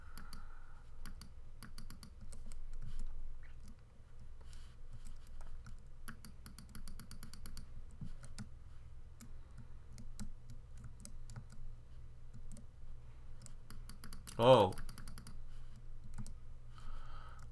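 Keys tapped and a mouse clicked while steering a vehicle in the game Gear Up, a steady run of soft, quick clicks and taps close by, with one sharper burst near the end and a brief murmured word.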